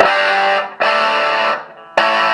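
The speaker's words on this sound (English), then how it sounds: "like distorted, too much distortion." Heavily distorted electric guitar chords from a bridge humbucker played through an Orange Micro Crush amp, three loud, buzzing sustained strums, each ringing out before fading.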